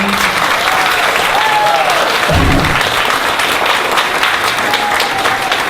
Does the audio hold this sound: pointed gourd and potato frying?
no